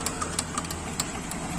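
Diesel engine of a Mahindra Bolero idling roughly after a cold start following five years parked, a steady low rumble with periodic knocking ticks, moderately close, with no talk over it.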